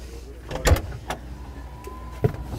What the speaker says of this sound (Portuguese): vou abaixar o vidro aqui pra entrar